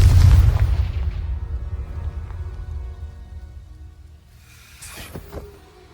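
A Confringo fire spell blast in Hogwarts Legacy: a heavy, deep boom opens loud and rumbles away over several seconds, then a couple of sharper crackling hits follow near the end.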